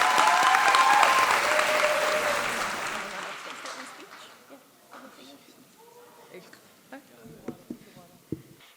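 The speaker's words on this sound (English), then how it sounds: "Let's put our hands together." Loud applause from a graduation audience at a high school's inaugural ceremony, swelling early then fading after a few seconds into scattered claps and a murmuring voice nearby.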